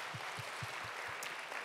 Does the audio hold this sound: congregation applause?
yes